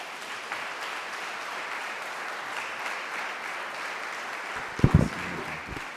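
A congregation gives a warm round of applause welcoming a Student Minister, a steady wash of clapping from a large hall, with a few louder close thumps near the end.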